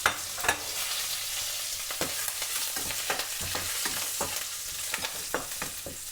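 Asafoetida, three dried red chillies and curry leaves crackle and sizzle in hot oil, with a steady frying hiss and intermittent sharp pops and stirring scrapes throughout, no voices.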